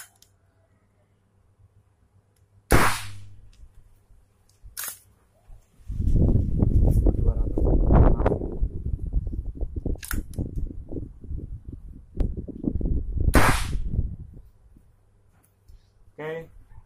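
An AFC Thor Mini air rifle fires several sharp, loud, clipped cracks, spaced irregularly over the span, with someone talking between shots.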